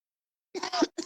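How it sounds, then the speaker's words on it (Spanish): A single short cough burst with a brief throat-clearing follow-up, close and fairly quiet after a moment of silence, heard alone with no speech. "es que estaba tosiendo"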